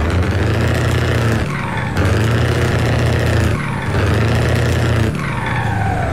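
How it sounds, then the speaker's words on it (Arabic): Truck engine idling in the Euro Truck Simulator video game, a steady low rumble that holds loud and continuous, dipping briefly twice as the engine note shifts, with no talking over it. "اسمع المحرك"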